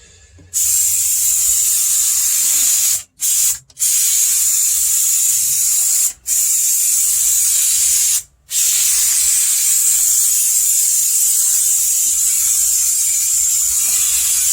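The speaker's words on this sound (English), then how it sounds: "Maybe I should spray the back of this foil before I have to walk all over it." Long continuous hiss of an aerosol can spraying adhesive onto the back of foil insulation for a 1962 Comet floor, close and loud, broken by a few brief pauses as the nozzle is released.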